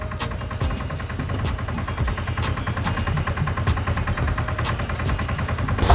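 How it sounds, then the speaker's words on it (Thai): A 1-cubic-metre TMR feed mixer's engine revs up steadily while mixing wetted straw, a continuous loud mechanical drone with rhythmic knocking, building slightly toward the end with no talk. "ตอนนี้เราก็เร่งเครื่องกันแล้วนะครับ"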